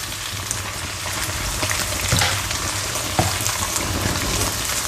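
Sun-dried fish frying in hot oil, a steady dense sizzle that holds at an even level throughout, with a couple of brief louder crackles and pops, close and alone without voices.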